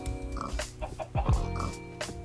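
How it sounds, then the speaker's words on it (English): A mutated chicken in the Minecraft video game gives several clucking, grunting calls. They are fairly loud and close, with other game sounds in the background. "Why is there a mutated chicken?"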